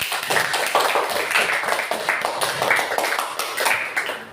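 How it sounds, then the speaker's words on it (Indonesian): Students clap for two class groups in a university lesson on folk tales, a dense, steady burst of many hands close by that runs the whole time, with no talk over it. "tepuk tangan buat kelompok 1 dan kelompok 2"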